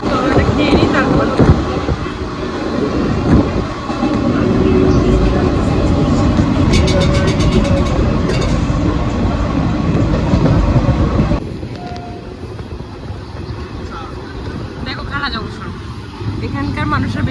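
A train runs on its rails with a steady rumbling roar and some clatter, loud and close throughout, easing slightly after a shift partway through, while people talk underneath.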